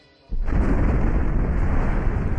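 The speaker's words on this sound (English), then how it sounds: "Explosions rocked the ship so hard that Obi-Wan felt the concussive force in his teeth." After a short quiet moment, a sudden heavy boom erupts into a sustained, rumbling roar of explosions as projectiles strike a spaceship.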